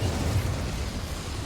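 An Incendio fire spell going off in the video game Hogwarts Legacy, a short, dense, low whooshing burst of flame that stays loud and rumbling for its full length, with no voices.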